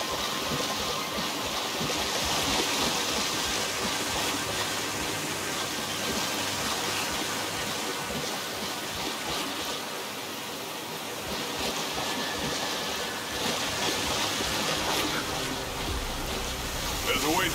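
A waterfall rushes in a Gears of War 5 game scene, a broad, continuous hiss of falling water that holds steady throughout with a few small swells.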